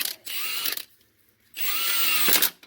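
A pink impact wrench with its torque turned down drives in a starter bolt on a 2003 Suburban/Silverado-type truck, in two short, close buzzing bursts separated by a brief pause.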